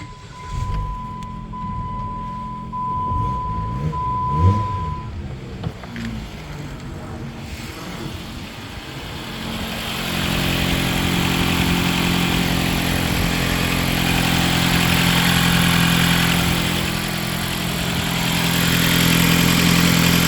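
A Jeep Patriot engine cranks and catches, then settles into a steady idle that runs on alone, rumbling evenly at close range, with a small exhaust leak.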